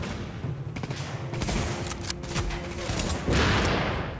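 Gunfire in the video game The Division, a cluster of sharp shots and bursts with a heavier blast near the end, loud and close over an ambient game backdrop.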